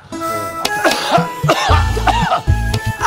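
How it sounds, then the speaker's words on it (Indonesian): A person coughs repeatedly in short, harsh bursts, close by, with some throat clearing between the coughs. "Batuk malam-malam"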